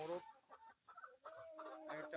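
Tiger breed roosters and hens on a poultry farm near Gazipur, quiet and close, giving a run of short clucks and drawn-out calls with brief pauses between.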